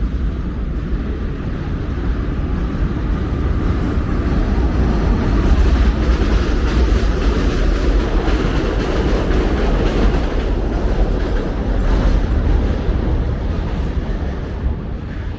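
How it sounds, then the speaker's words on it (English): A short three-car subway work train passes on the elevated line over 86th Street in Bensonhurst, Brooklyn, as a loud, continuous rumble with rattling clatter throughout. "That sounded like a work train."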